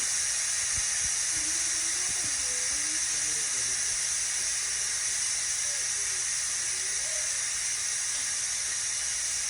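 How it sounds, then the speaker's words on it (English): An Instant Pot pressure cooker does a quick release after cooking hamburger macaroni, a loud, constant, close steam hiss that runs unbroken from start to finish, with faint low sounds underneath. "we're gonna go ahead and release the pressure, a quick release"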